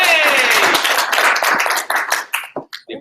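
A short canned applause effect on a tech podcast: a dense burst of clapping that thins into a few scattered, separate claps and fades out within about three seconds.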